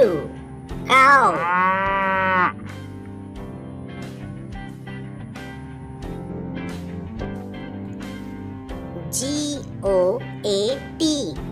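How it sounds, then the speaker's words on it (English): A cow gives one loud, drawn-out low moo near the start, followed by quieter, shorter animal calls later on. "COW, cow."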